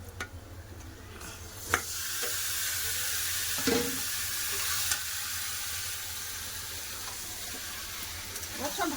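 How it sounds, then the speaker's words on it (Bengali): Marinated chicken sizzles loudly in a pan after being added to fried onion, ginger and garlic, a continuous close hiss broken by a few sharp scrapes and knocks of stirring. "আদা রসুন পেঁয়াজ ভালো করে ভাজা হয়ে গেছে ম্যারিনেট করে মাংসটা দিয়ে দেবো"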